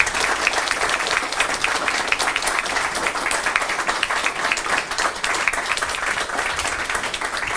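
A ceremony audience gives sustained, vigorous applause after two teachers finish singing, a dense, even roar of many hands clapping at close range that continues without a break.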